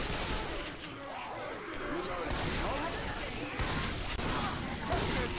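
Dense, continuous pistol and gunfire from the Left 4 Dead 2 video game, with rapid overlapping shots and crashing effects filling the whole stretch.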